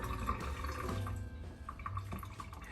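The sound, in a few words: water running to rinse mayo off a spoon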